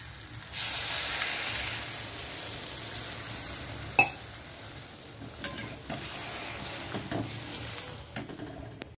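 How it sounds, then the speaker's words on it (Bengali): Shrimp frying in a pan for a home-cooked lunch, giving a steady broad sizzle with occasional stirring clinks and a sharper tap midway, close and continuous without talk. "এখানে চিংড়ি মাছ ভাজা বসিয়ে দিয়েছি"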